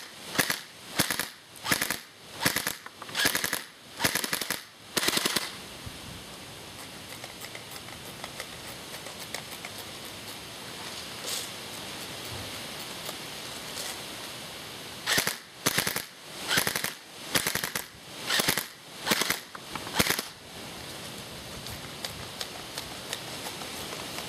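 Gunfire comes from a gun shooting at a watermelon outdoors, with loud, rapid bursts of sharp close shots in two main volleys and a few scattered single shots between.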